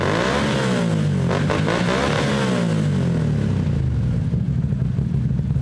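A Mud Runner quad's engine revs loud and close, its pitch sweeping up and down in repeated surges over a steady rumbling idle.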